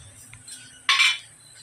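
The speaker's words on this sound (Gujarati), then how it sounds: "તલ, વરિયાળી અને અજમો અને ધાણા દાળ ભેળવીએ આપણે." Sesame, fennel, ajwain and coriander seeds being mixed in a bowl: a quiet rustle, then one short scraping clatter of a spoon against the bowl, with no voices.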